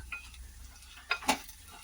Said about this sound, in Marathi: आता याच्यावर बारीक चिरलेली कोथिंबीर टाकायची वरतून मिक्स करून घ्यायचं